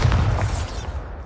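A loud, booming Bombarda blast spell from Hogwarts Legacy, a single heavy, close explosion with deep rumble that quickly decays into quiet.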